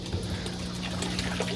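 Water rushes through a bell siphon on the overflow of a simple aquaponics system, making a steady, fairly quiet pouring and trickling wash with a low hum underneath.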